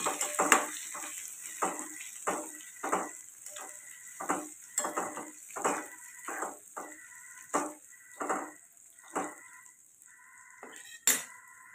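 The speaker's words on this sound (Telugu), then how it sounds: "పచ్చివాసన పోయేంత వరకు వేయించుకోవాలి." Home-ground spice paste frying in a pan, stirred steadily: a regular rhythm of close scraping and clinking strokes, roughly one per second, over a constant soft sizzle, with no talking.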